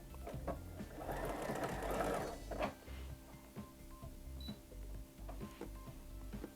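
Sewing machine running a triple stitch along a skirt hem at a lengthened stitch setting, a steady close mechanical chatter with brief pauses and no talk.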